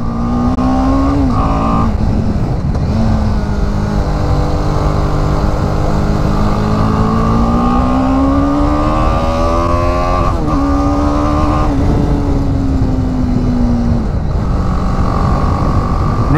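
A BMW G310GS motorcycle with a TVS-built single-cylinder engine rides along scenic open roads, its engine note droning loud and continuous with rising and falling pitch as it accelerates and shifts, mixed with steady wind rush.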